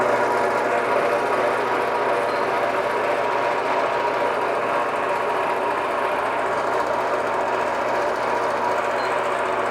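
A quilting sewing machine runs continuously, stitching a tree wall-hanging through batting with a steady, dense mechanical hum and rapid chatter that stays even throughout.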